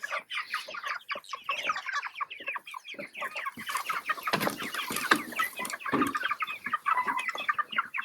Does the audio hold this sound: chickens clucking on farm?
yes